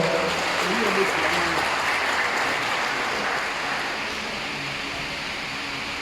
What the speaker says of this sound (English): I should have started with a round of applause for them.